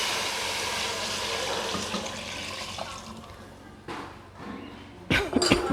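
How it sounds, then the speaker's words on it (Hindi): One litre of water poured into a pot of fried mutton paya, a steady rushing splash that gradually tapers off, followed by a few clattering knocks of the pot at the end. "1 लीटर पानी मैं इसमें ऐड कर रही हूँ।"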